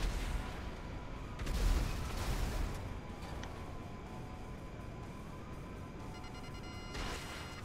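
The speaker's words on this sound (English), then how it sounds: "I'm about to get into a gunfight" A gunfight in GTA V: a loud burst of rapid gunfire and blasts near the start, fading into a steady low rumble of distant shots, with another sharp burst near the end.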